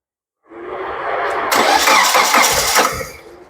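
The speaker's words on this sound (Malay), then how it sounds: "Jadi sekarang kita akan start nih kereta." A Proton Wira MMC 1.5 with a low-idle fault cranks and catches, its engine starting and rising into a rough, loud idle close by with no talk.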